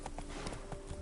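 Horse hooves clip-clopping at a steady trot in the video game Witcher III, a quick, close run of muffled hoofbeats.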